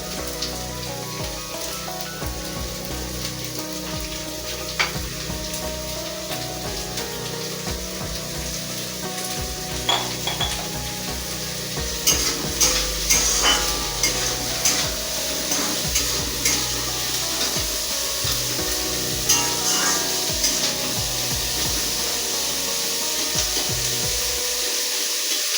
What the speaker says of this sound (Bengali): এখন আমি পেঁয়াজ কুচি দিচ্ছি।